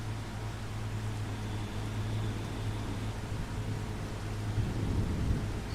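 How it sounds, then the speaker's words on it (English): Steady rain with a low thunder rumble in Farming Simulator 25, on a Montana farm map heading into winter; a constant wash and deep rolling hum that swells slightly near the end, with no talk. "Maybe it's because it's raining."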